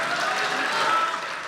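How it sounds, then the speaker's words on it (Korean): Steady applause in the National Assembly chamber after a lawmaker's speech, a dense, even wash of many hands clapping together and sustained with no break. "발언을 끝내자 박수도 나왔습니다."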